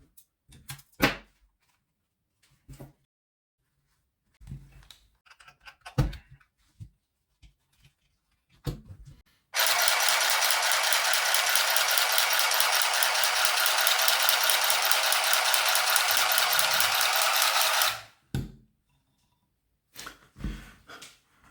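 An Easymaxx handheld sewing machine runs in one steady, bright mechanical whir for about eight seconds, fairly close and loud, with quiet handling clicks and rustles before and after.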